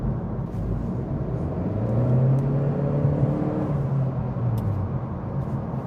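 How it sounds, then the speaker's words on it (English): Turbocharged Acura Integra with a CVT accelerating, a steady loud drone whose pitch rises smoothly and holds without gear steps, strongest midway, then eases slightly toward the end. "still have that same CVT sound"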